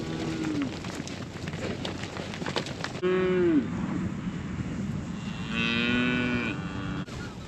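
Cows and calves mooing near a fence at feeding time on a farm, several drawn-out moos at moderate distance over outdoor background noise, with a higher calf call later.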